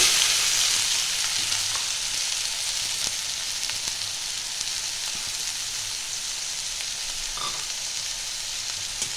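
Two large, finely grated onions hitting hot oil already seasoned with bay leaf and reddened chilli for chicken do piaza, giving a steady close hiss and crackle with a few louder pops and no talking.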